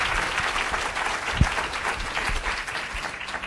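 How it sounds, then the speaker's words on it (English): An audience applauds a speaker at a lecture, a dense and steady patter of many hands clapping for several seconds. "Let's give a round of applause to our very interesting speaker."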